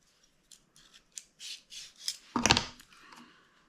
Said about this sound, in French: On va éplucher la deuxième carotte.